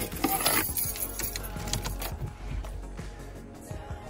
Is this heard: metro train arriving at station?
no